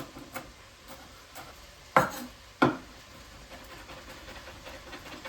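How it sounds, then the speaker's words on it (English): Two sharp, close knocks of a knife chopping garlic on a cutting board in a home kitchen, set well apart over a low, quiet room background, with no voices. "I think I could have also used one of those garlic crushers, but we're going old school. Good old mincing."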